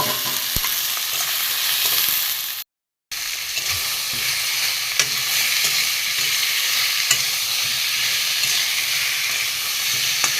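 Boiled taro and potato frying in an onion and spice mix in a pan, giving a steady, close sizzle with stirring scrapes that breaks off briefly partway through and then continues.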